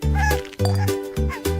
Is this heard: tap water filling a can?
no